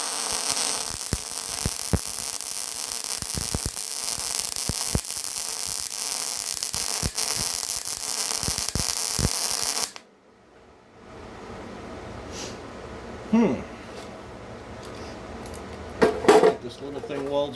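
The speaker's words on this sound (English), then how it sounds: "This little thing welds pretty good." A Bestarc multi-process welder laying a bead over slag gives a loud, steady broadband crackle and sizzle with sharp pops for about ten seconds, then cuts off to a quiet room with a few faint clanks.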